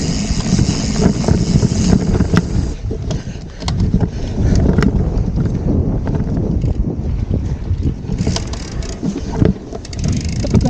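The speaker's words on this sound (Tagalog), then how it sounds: "Hangin na yun." Strong coastal wind on a trail at San Fabian, Pangasinan buffets the microphone continuously, a loud rumbling roar with occasional creaks and knocks throughout.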